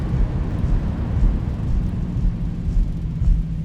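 A Boeing 737 in the X-Plane 11 flight simulator rolls out after landing as its thrust reversers spool down, a loud, steady, broadband engine roar and rumble with no voices.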